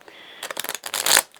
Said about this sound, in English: I always love to do a little extra right before